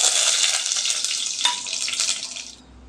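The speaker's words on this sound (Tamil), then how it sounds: "நெய் 1 ஸ்பூன் ஊற்றிக்கங்க. தாளிக்க எடுத்து வச்சுருந்த பட்டை, கிராம்பு, சோம்பு, ஏலக்காய் எல்லாத்தையும் போட்டுக்கலாம்." Whole spices of cinnamon, cloves, fennel and cardamom frying in a spoonful of ghee for tomato rice, giving a loud, steady hissing sizzle that fades out near the end.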